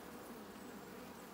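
Honeybees run about inside an open hive during re-queening and splitting, making a dense, continuous buzzing hum that is steady and close.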